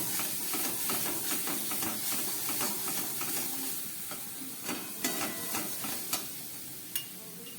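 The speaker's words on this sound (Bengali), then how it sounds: "মশলা দেবার পরে আরও কিছুক্ষণ আমি এটাকে কষিয়ে নেব।" Fish is fried with spices such as ground cumin in a pan over low gas, giving a steady close sizzle and hiss with repeated stirring scrapes, then sharper clicks of the spoon toward the end.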